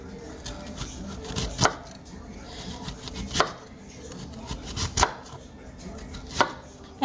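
Onion being cut with a knife on a cutting board, with four sharp chops spaced about one and a half seconds apart over quiet slicing and handling noise.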